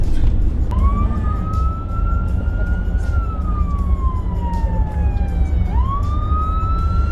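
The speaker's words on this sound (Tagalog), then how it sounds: "si Mahal Arena nakasakay rin diyan sa ambulansya" An ambulance siren wailing on a street in Edmonton, Alberta, a loud continuous rising and falling tone over heavy traffic rumble, sweeping down and then jumping back up near the end.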